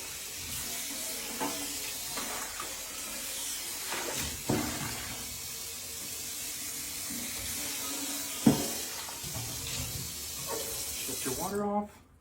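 Water runs steadily from a tap, splashing and rinsing over the lip of a hot stone heater, with occasional clinks and knocks, before cutting off near the end.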